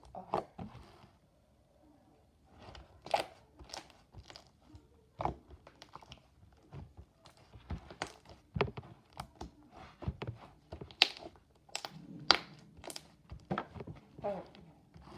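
Slime being squished and stretched by hand for ASMR, giving close, wet crunchy clicks and pops in irregular bursts, with brief quieter stretches between.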